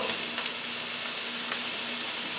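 Onions frying in a pan make an even, dense sizzle close by, with a faint steady hum beneath and a few small pops at the start, without any talk.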